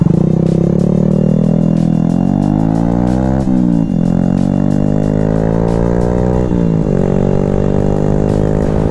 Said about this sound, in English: especially with an exhaust, it just makes it more fun to just kind of like rev it up